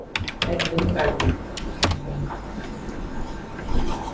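Keys clack on a computer keyboard as a login is entered, an irregular burst of close, sharp taps over a steady low background hum.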